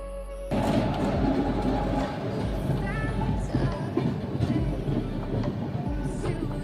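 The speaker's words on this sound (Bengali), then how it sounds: "ট্রেনটা ছেড়ে দিয়েছে।" An Indian passenger train runs steadily after leaving the station, heard from inside an air-conditioned coach as a continuous rumble with faint wheel clatter and a brief squeal, with no talk.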